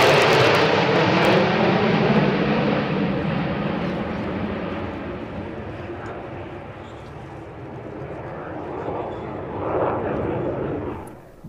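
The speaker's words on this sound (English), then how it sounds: "The first performers from this formation were two MiG-29s, complete with flares." Jet aircraft roaring past at an air show, a loud broadband rush that slowly fades and swells again near the end, heard at a distance over crowd ambience, with some talk underneath.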